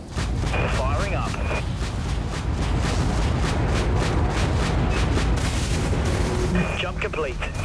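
Broadside guns fire in a space combat video game, a dense continuous barrage of booming, cracking shots with synthetic beeps, loud and close, while voices talk over it.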